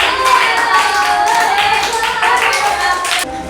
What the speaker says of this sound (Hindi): राजेश कुमार के लिए एक ताली बनता है